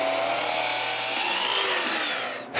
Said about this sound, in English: take one of the glue ups that Peter made and cut it to size